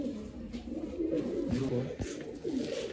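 Tournament pigeons of an old line, kept at a sale in Bangalore, coo in low throaty rolling bursts, several birds overlapping close by against a steady background hum.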